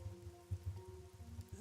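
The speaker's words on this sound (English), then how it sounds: "The rain, it never stops." Steady rain falls in the video game Rain Code, a faint, continuous patter with a soft low rumble and no voices.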